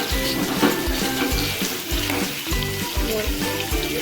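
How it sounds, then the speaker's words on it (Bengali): Whole spices, bay leaf and dried chilli sizzle in hot oil for a pumpkin curry, a steady, dense, close crackling hiss with a low rhythmic bubbling texture running throughout. "এবার আমি ফোড়নগুলো তেলেতে দিয়ে দিচ্ছি একটা তেজপাতা একটা শুকনো লঙ্কা"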